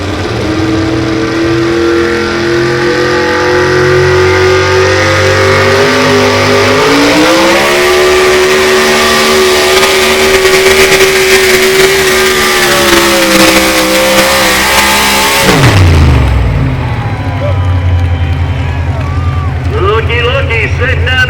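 A pulling truck engine revs loud and continuous at a night truck and tractor pull in Wauseon, Ohio, the pitch rising midway, with a sharp drop near the end and an announcer talking over it.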